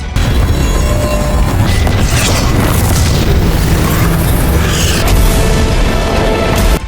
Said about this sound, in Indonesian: Tombak iblis dan penguasa kuno bertabrakan langsung di udara, menghasilkan ledakan beruntun